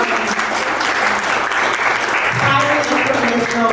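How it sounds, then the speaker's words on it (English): A lecture-hall audience at a housing development speaker series claps steadily in dense, sustained applause that fills the whole stretch at full loudness. "let's give them a round of applause"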